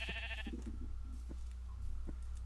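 A single sheep bleats in a video game, a short quavering cry at the start, followed by faint soft clicks and thumps, fairly quiet with no talk over it.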